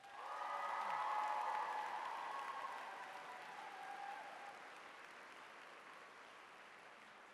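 Audience applauding contestants on stage at the Mr. USU pageant show, a dense sustained wash of clapping that swells early, then slowly fades while continuing steadily.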